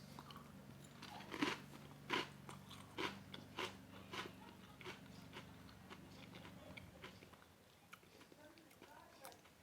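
Crunchy American breakfast cereal with colourful charm marshmallows is chewed up close, with about eight evenly spaced, crisp crunches that soften into quieter munching.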